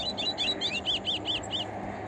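A melodia songbird kept in a simple cage sings a rapid series of about ten high, bright chirping notes, close by, over a low background hum.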